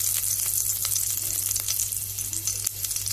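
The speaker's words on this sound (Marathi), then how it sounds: "हांवें तोप दवरला गॅसीचेर आणि एक अर्दो चमचो हांवें तेल घातला पळया, अर्दो चमचो, ना घातल्यारूय जाता। आणि लसूण घातले" Garlic sizzles in half a spoon of oil in a pot on a gas stove, a close, constant, loud frying hiss with a low hum beneath and no talking.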